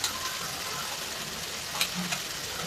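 Powdered gathiya being stirred into okra frying in a pan, a faint steady sizzle with a couple of brief scraping stirs, close and without talk.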